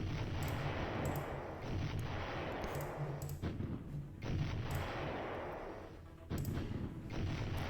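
Tank cannon shots in a war video game: three heavy booming blasts spaced a few seconds apart, each followed by a long rumbling decay, loud and close with no talk.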